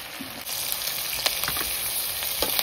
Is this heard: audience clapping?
no